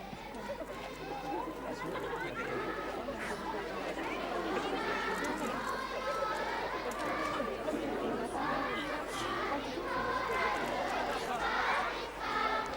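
A happy crowd at Caernarfon Castle greets the Prince and Princess of Wales in 1981, a steady outdoor hubbub of many voices chattering and calling out, with scattered cheers rising over the continuous crowd noise.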